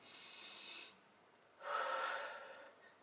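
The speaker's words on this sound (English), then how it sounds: "Take a few deep breaths, so deep diaphragmatic breaths." Two slow, deep diaphragmatic breaths drawn close and soft, each a hushed airy rush of about a second with a quiet gap between, no talking.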